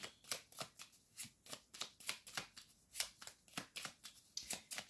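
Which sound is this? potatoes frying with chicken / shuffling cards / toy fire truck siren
shuffling cards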